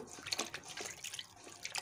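Peeled, deveined prawns stirred and rinsed by hand in a bowl of water, giving soft irregular splashes and sloshes, quiet and close, with no talking.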